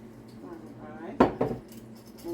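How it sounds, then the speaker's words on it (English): A whisk clinks against a bowl while sugar is mixed into chocolate cake batter, giving two or three sharp, close metallic taps over a quiet background. "I'm just going to whisk that in and just mix it up really good"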